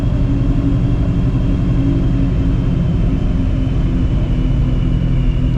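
A 700 HP Procharged Shelby GT350 drones from inside the cabin, a loud, steady low engine rumble that holds even with little throttle.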